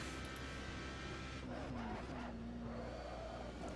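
Ginetta G55 GT4 race car in Assetto Corsa, its engine a steady close drone with a rising and falling pitch line as it pulls through the gears around Oulton Park.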